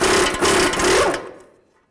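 A power tool whirs on the outer tie rod end nut of a 2006-10 Dodge Charger, running loud and close for about a second before spinning down into silence.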